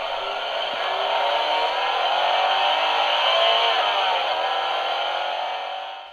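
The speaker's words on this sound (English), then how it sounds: "The second is meant to mimic the sound that the car would make racing at very high speeds." A 2009 Hess toy race car plays an electronic high-speed racing effect, a sustained whirring engine whine that rises and holds before fading at the end, with no talk.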